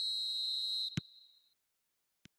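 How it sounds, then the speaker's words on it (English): A referee's whistle in the eFootball soccer video game gives one long, piercing, steady blast. It cuts off and is followed by a soft click and a later isolated tap. "There's the whistle."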